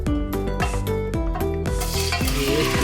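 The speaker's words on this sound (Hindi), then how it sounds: "ऑयल हमारा गर्म हो गया है तो हम इसमें चिकन शामिल करते हैं" Boneless chicken dropped into hot oil for a chicken handi curry, a loud steady sizzle and frying hiss with utensil stirring and clinks against the pot throughout, no talking.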